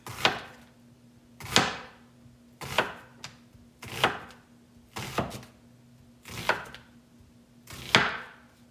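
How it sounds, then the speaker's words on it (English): A very sharp knife makes thin cuts through an onion on a board, seven crisp chops evenly spaced about a second apart, close and clear with no talking. "if you have a super, super sharp knife, you're going to make just thin little cuts"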